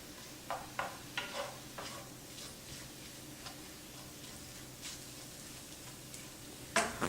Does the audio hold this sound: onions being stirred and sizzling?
yes